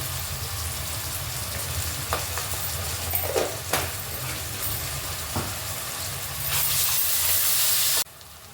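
Ginger garlic paste fries in a pan with a continuous close hiss and sizzle, punctuated by a few sharp clinks and stirring taps, and a louder, brighter burst of sizzling near the end before it cuts off.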